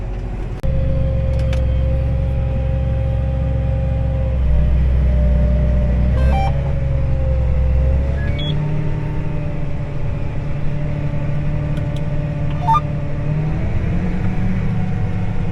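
A corn planter runs with its front and back pumps engaged, giving a loud, steady mechanical drone with a deep low rumble that drops away about halfway through, while a thinner whine carries on alone.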